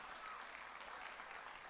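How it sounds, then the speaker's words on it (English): Faint, distant applause from an audience at a literary prize event, an even wash of clapping heard quietly and steadily throughout, with a thin high whine present. "please a resounding applause for them."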